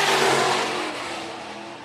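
Sport modified race cars at Phillips County Raceway accelerate together at the green flag, a loud, dense engine roar that fades slightly as the pack pulls away.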